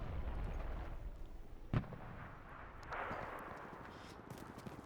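An artillery strike in the WWII shooter Enlisted lands as a single faint, distant boom, followed by a low rumbling wash of battle noise.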